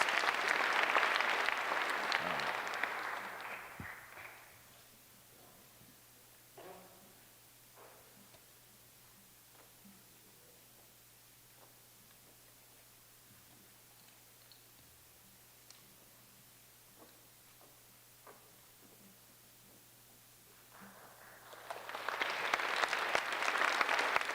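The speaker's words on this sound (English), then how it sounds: "Please join me in one more round of applause for our 2026 Bailey Lake Scholars." An audience applauds the 2026 Bailey Lake Scholars at a high school senior awards ceremony; loud clapping fades out within a few seconds, a long quiet stretch with small rustles follows, then a second burst of applause rises at the end.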